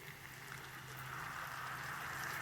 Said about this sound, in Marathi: तर आता आपण जे फेटलेलं दही आहे ते आता इथे ॲड करणार आहोत